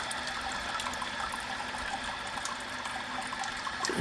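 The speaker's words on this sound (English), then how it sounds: "It's trickling down in there." Water trickles steadily into a still during a boil, a close, continuous liquid dribble with a faint hum underneath and no pauses.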